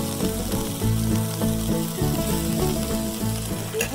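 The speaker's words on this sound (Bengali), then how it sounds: "এইবার বেগুনটা দিয়ে দেবো" Stuffed eggplant dropped into hot oil with spices in a pan, a loud steady sizzle and crackle of frying, with faint stirring scrapes and no talking over it.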